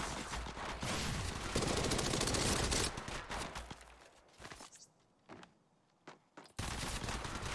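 Gunfire in the mobile battle game Apex Legends Mobile crackles in dense bursts of rapid shots, then gives way to scattered single shots, footstep-like clatter and mechanical clicks before another loud burst.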